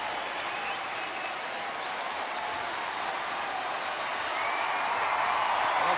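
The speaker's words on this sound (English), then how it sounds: "They are cheering for Joe Nathan to rack up the save number 29." A crowd of about 36,000 baseball fans at a Rangers home game against the Astros cheers and applauds for closer Joe Nathan. The applause forms a dense, steady wash that swells slightly toward the end.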